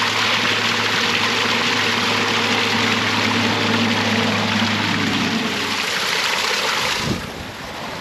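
Cold spring water flows steadily over rocks at a roadside spring, a constant close rushing wash, with a low engine hum running beneath for most of the clip before it cuts out near the end.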